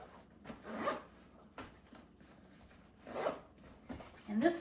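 Rasping zipper pulls while a small compression bag for dive gear is closed and squeezed down, several uneven bursts of zipping close up, with quiet rustling between them.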